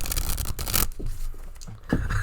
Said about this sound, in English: Here, you can get some ASMR card shuffling.